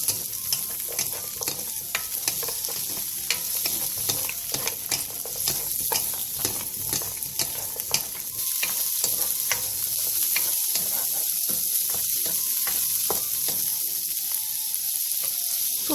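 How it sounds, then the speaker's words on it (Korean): Sausages and garlic fry in oil in a pan over medium heat, a loud, continuous sizzle and crackle with frequent spatula scrapes and stirring clicks throughout. "팬에 기름을 두른 뒤 소세지와 마늘을 넣고 소세지가 벌어질 때까지 중불에서"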